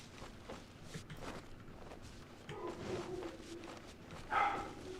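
Dogs bark somewhere in the background of a home, a few muffled, distant woofs over a low room murmur, with one sharper yelp near the end.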